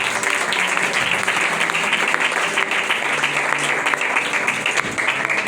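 A church congregation gathered for a Pentecost service claps steadily for several seconds, a continuous roomful of hands applauding at moderate loudness.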